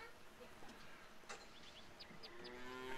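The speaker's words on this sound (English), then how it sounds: "They're lowing. That's what cows do when they need to be milked." Cattle lowing to be milked in the farming video game Farmer's Dynasty, drawn-out moos rising over steady game ambience with a few faint chirps, no one speaking.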